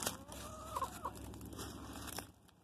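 A backyard rooster with hens outdoors in autumn, giving a few short clucks and brief calls over a low background hum, faint and at moderate distance, with no talking.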